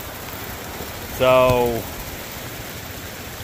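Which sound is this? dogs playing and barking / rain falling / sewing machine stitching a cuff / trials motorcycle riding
rain falling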